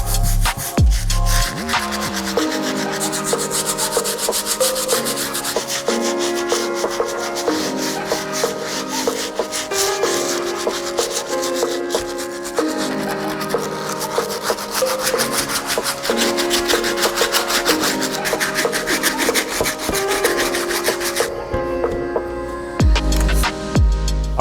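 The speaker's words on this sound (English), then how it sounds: "Now let's go ahead and clean the midsole and the outsole with the stiff bristle brush." A stiff bristle brush scrubs the midsole and outsole of a Jordan 11 Concord sneaker, giving continuous rhythmic rubbing strokes, loud and close, with no talk over it.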